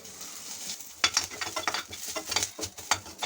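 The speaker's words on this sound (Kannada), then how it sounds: "2 ಕಡ್ಡಿ ಕರಿಬೇವು ಹಾಕ್ಕೊತಾ ಇದ್ದೇನೆ" Curry leaves crackle and sizzle in a hot pan, two sprigs dropped in for a South Indian tempering; sharp popping bursts start after a quiet moment, with steady frying hiss and a few stirring scrapes close by.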